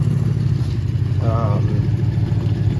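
A mid-1990s MTD Yard Machines garden tractor with an 18.5 hp engine and 46-inch deck idles steadily at close range, a low continuous rumble with a brief rising tonal whine partway through, running alone without talk.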